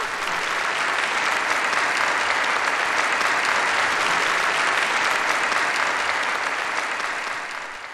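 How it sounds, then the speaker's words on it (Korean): Big hall applause for the women's national football players at a North Korean awards gathering for athletes, a dense, even roar of clapping that holds steady and then tapers off at the end. "우리 박성진 감독과 미덕은 우리 여자 축구 선수들에게 고무와 격려의 박수를 크게 보내줍시다"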